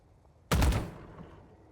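A single sharp gunshot from a first-person shooter match in Valorant cracks out close and loud, then tails off in a short fading echo over a quiet background.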